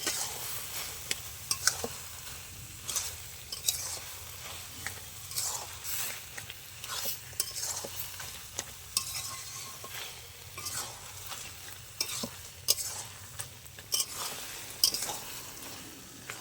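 Ash gourd ghonto with sugar being stirred in a pan, steady scraping strokes of the spoon repeating over a soft continuous sizzle, close and clear with no talking.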